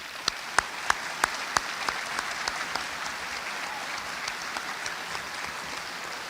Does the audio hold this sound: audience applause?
yes